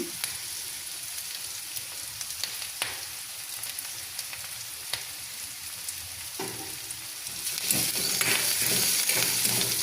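Curry leaves frying in hot oil in a pan for a potato curry, a steady close sizzle with occasional crackles and pops that swells louder near the end, with no talk.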